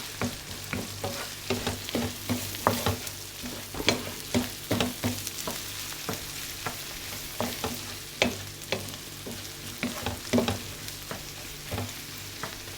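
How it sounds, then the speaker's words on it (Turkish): Taco filling stirred in a frying pan for a Turkish mini taco recipe, with a steady sizzle under repeated spoon scrapes and clacks against the pan, close and moderately loud, no talking. "şimdi böyle karıştırmaya devam ediyoruz"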